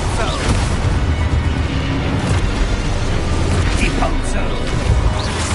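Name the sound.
Expulso explosion spell in Hogwarts Legacy video game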